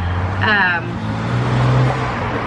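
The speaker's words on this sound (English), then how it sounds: "This is reality, traffic." Steady outdoor road traffic rumbles at close range, a continuous low roar of passing vehicles, with a voice speaking briefly over it.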